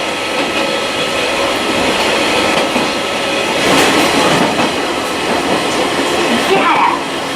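Eizan Electric Railway train arriving at Ichihara station, a steady rumble of wheels and rail noise with faint clatter, held loud and close throughout, with a brief rise in the middle.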